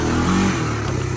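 1987 Honda Big Red three-wheeler ATV engine revving hard during a spin, a loud, close, steady buzzing drone that rises slightly and holds.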